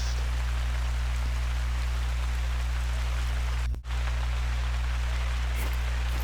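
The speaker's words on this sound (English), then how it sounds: "Layton Lakes, it just loves to rain and fog and mist here" Steady rain falls at Layton Lake in the hunting game theHunter: Call of the Wild, an even wash of patter with a low constant hum beneath and a brief dropout near the end.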